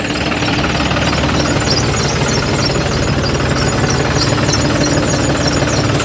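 A tractor engine runs in a field during spraying of a mung bean crop, heard as a loud, steady mechanical drone with a knocking, vibrating texture that continues unbroken throughout.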